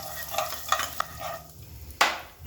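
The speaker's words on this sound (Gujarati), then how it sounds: "જીરું નાખીશું, 5 ચમચી હિંગ નાખીશું, અડધી ચમચી હળદર નાખીશું અને એને બરાબર આપણે હલાવી દઈશું" Cumin, asafoetida and turmeric stirred in hot oil crackle and scrape in a few quick strokes, with a sharp spoon clack near the end over a soft sizzle.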